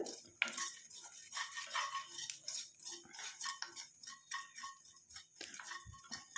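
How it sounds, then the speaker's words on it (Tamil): A spoon stirs nigella, fenugreek and mustard seeds dry-roasting in a pan, making a steady, fairly quiet scrape and light clatter of seeds against metal throughout, with no talk. "இந்த மாதிரி நம்ம கிண்டி விட்டுக்கிட்டே இருந்தால் எல்லாமே ஈவனாக வறுபட்டு வரும்"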